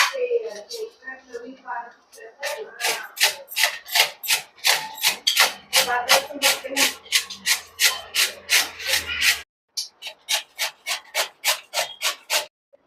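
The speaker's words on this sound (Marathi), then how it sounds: "चला आता कैरी किसून घेऊया। त्यासाठी मी किसणी घेतलेली आहे, मीडियम साईजची याच्याने कैरी किसून घेणार आहे।" Raw green mango being grated on a medium-size grater, with a steady series of close, loud rasping strokes in an even rhythm, a short pause partway through before the strokes resume; a voice speaks briefly at the start.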